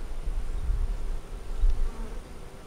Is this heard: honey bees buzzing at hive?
yes